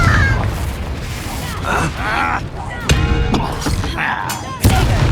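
A Confringo spell blasting in the video game Hogwarts Legacy, sharp booming impacts and crackling bursts amid battle noise, with a character's voice shouting over the fight.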